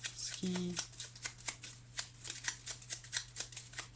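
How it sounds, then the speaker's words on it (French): Tarot cards handled on a table while one card is laid over another: close, crisp shuffling flicks and a series of light paper taps and slides, with a short tonal sound near the start. "je vais recouvrir les nuages pour voir"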